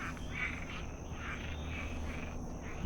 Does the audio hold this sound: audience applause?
no